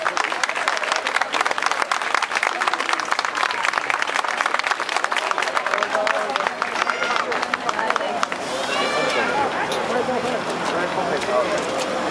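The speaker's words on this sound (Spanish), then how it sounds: "El primer saludo, fuerte el aplauso." A crowd claps loudly and steadily at a religious street procession for a Christ figure, dense rapid applause that thins after about eight seconds as a faint tonal sound and murmuring take over.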